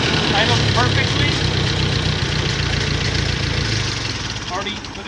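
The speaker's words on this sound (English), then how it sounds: "Idled perfectly." A family tractor engine idles steadily and loudly up close after starting, a continuous low rumble with a slight knock that eases a little toward the end.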